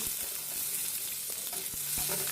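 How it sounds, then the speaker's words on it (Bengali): Julienned onions fry and are stirred in a pan, giving a dense, even sizzle up close with soft thuds and scrapes from the stirring spoon. "পেঁয়াজটা নাড়িয়ে ছাড়িয়ে খুব ভালোভাবে ভেজে নেব"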